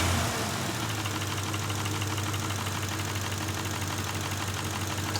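A warm Ford F-150 engine idles with a steady, diesel-like clatter and slight knocking, loud and close throughout, with a single brief word spoken at the start.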